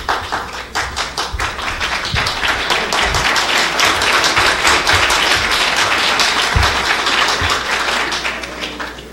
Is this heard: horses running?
no